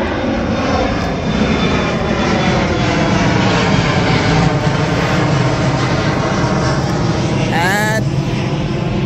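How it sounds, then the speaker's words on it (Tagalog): Airplanes fly close by beside Pearson airport, a loud, continuous engine roar that holds steady throughout at near range. "mga aeroplano."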